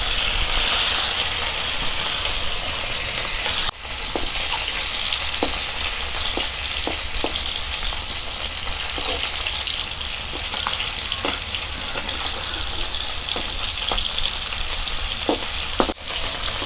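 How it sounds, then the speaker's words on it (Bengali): Koi fish fry in very hot oil in a wok with a loud, continuous sizzle, broken now and then by small pops and the clink of a utensil. "কড়াই তেলটা কিন্তু খুব গরম হয়ে গেছে, এর মধ্যে আমি একে একে কই মাছগুলো দিয়ে দেবো। হালকা হালকা করে মাছগুলো ভেজে নেব।"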